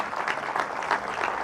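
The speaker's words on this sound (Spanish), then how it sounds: "vamos a brindarle un fuerte aplauso" A church congregation gives brief, steady applause during an evangelical sermon, a soft continuous patter of many hands clapping at moderate distance.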